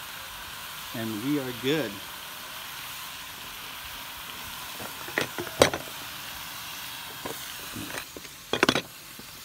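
A steady, quiet sizzle of steak frying on a hot Blackstone flat top griddle, with a short spoken remark near the start and a few sharp scrapes and clinks.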